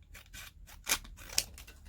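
Scissors snip through paper while trimming a handmade card embellishment, with soft repeated cuts and two sharper, louder snips close up and no voices.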